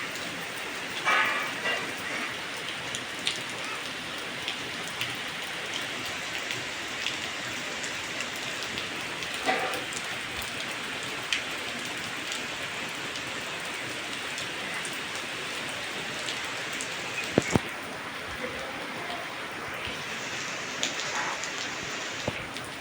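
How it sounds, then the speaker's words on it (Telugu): Steady heavy rain pours down throughout in a flooding village, a dense continuous hiss with occasional louder splashes and drips nearby. "చూడండి ఎంత వర్షమో, ఇంత వర్షం వస్తుంటే"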